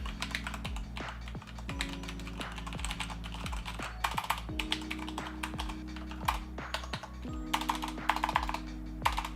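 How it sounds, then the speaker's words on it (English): Rapid typing on a Thermaltake Argent K5 RGB mechanical keyboard with silver switches, a dense stream of light clicky keystrokes, close up with no voices over it. "All right, let's have a listen to the typing."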